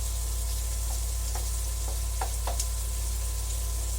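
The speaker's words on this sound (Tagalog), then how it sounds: "Stir fry lang po natin siya hanggang sa mag kulay red or orange yung hipon." Shrimp stir-frying in oil in a pan, a steady sizzling hiss with a few light scraping taps of the spatula, under a constant low hum.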